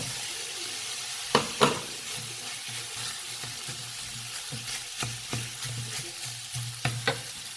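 Rice being stir-fried in a pan for Thai fried rice, with a steady soft sizzle under repeated sharp scrapes of a spatula in small clusters, close and fairly quiet.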